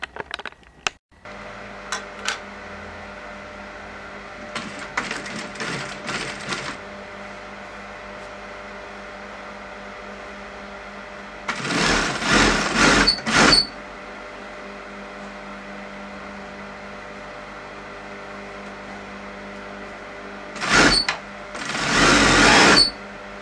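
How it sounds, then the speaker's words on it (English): A sewing machine stitches curtain tape onto a bespoke curtain in three separate bursts of rapid mechanical whirring, heard close over a steady background hum. "You can pin it down, but I'll just get on with it and just stitch it on"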